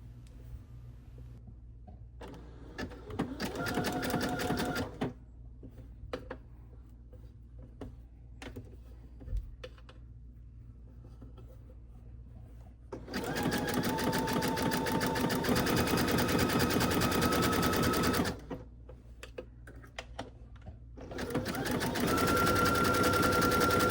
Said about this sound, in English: Sew directly on the raw edge with your zigzag stitch while pulling slightly on the fabric.